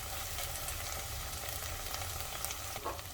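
Garlic-ginger paste frying in a pan for a gram-flour curry, a steady close sizzle with faint stirring scrapes throughout, no voices.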